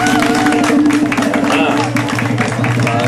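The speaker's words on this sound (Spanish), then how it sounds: "Vamos fazer um aplauso para o Kishon." Audience applauding for a performer named Kishon at a live event, a dense steady patter of clapping from a crowd heard over music and background voices for about three seconds.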